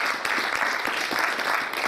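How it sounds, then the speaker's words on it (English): Audience applause keeps up a steady, dense wash of clapping through the whole stretch, with no voices above it, at a 4Life business presentation. "I think For Life deserves a round of applause for that."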